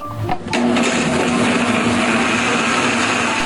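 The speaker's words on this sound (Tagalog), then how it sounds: "Saka pinaandar ang blender." A blender kicks on and runs steadily with a loud, constant whirring hum that fills the whole clip.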